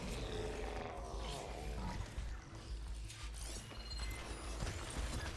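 Mechanical robot creatures in Horizon Forbidden West growl and roar amid grinding metallic clanks and heavy thudding movement, a dense, continuous wild-beast din heard at moderate distance with no talking over it.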